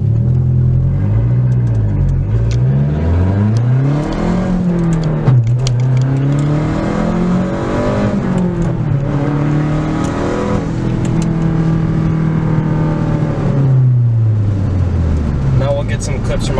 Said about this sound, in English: Out on a straight road here, we're going to do a little 0 to 60.